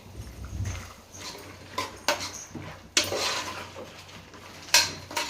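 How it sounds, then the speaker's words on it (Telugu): Ingredients are stirred together in a bowl for a simple dal-rice dish, with close, irregular utensil clinks and scrapes against the bowl and a few sharper knocks. "ఇదైతే బాగా కలిపెట్టుకోవాలి."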